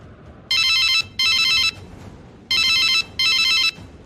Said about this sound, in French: Il faut que j'appelle Yannick.